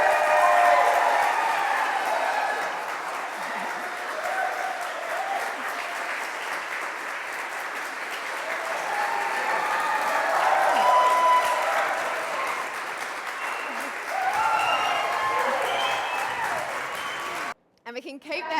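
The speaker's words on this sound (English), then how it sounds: "we can keep that cheer and round of applause ready as we officially congratulate our newlyweds Beth and Lyle" Wedding guests at a ceremony burst into sustained applause and cheering for the newlyweds, a dense, steady roar of clapping that swells and dips for about seventeen seconds before cutting off abruptly.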